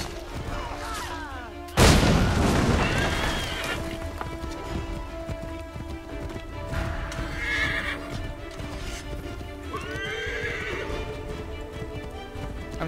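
Horse in Assassin's Creed 3 neighs and whinnies over clip-clopping hooves, with a loud burst near the start like gunfire, then further whinnies mid-clip amid game music and ambience.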